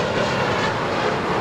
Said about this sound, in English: Bombardier Challenger 350 departing to Nassau